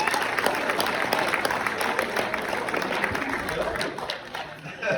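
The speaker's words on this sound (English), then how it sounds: "give a round of applause to the beautiful bridesmaids today" Wedding guests at the speeches give the bridesmaids a round of applause, with a steady wash of many hands clapping in a reception room, fading slightly near the end.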